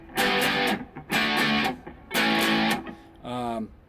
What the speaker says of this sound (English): this is an AMD distortion station, which is what I'm getting the distortion out of here